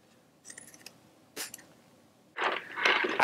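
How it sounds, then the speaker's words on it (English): Sharp scissors snip through a stiff sheet of Worbla thermoplastic, a few light cuts followed by longer crisp slicing strokes up close. "Here's just a regular pair of sharp scissors."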